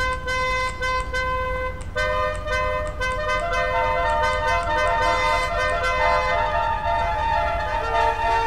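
Car horns blaring in the video game GTA 5, several overlapping sustained honks forming a dense chord that swells louder after the first couple of seconds, with short breaks and continuous layered tones.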